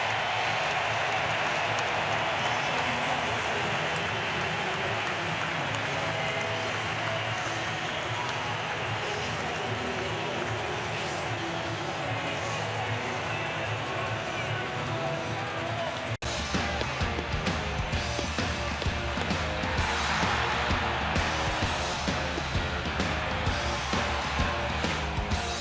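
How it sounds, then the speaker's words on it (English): Baseball stadium crowd at an MLB playoff game, a dense continuous roar of cheering and applause that swells louder partway through, with a broadcaster talking over it. "Listen to that crowd."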